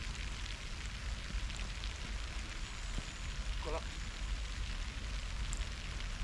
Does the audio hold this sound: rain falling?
yes